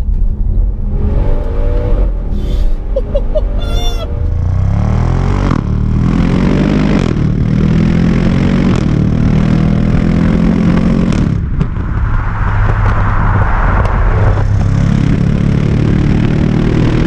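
Audi RS6 Performance engine in dynamic drive mode, loud and close, revving hard through repeated rising pulls with gear changes, a continuous roaring car engine with no talk.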